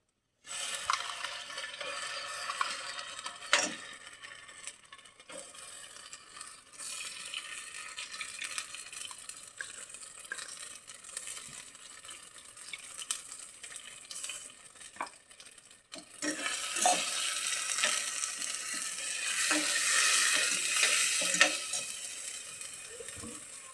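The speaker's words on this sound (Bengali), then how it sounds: "পেঁয়াজটা ব্রাউন করে ভেজে নেব।" Onions browning in a pan while being stirred for a stuffed bell pepper dish, a steady crackling sizzle with scraping utensil strokes, growing louder and busier in the second half.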